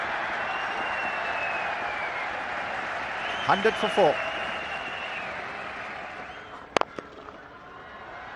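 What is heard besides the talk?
cricket crowd cheering India's 100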